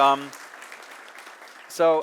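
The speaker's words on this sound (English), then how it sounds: "that's also worth an applause" A short stretch of scattered clapping from a symposium audience, sandwiched between brief bits of someone talking at the start and end.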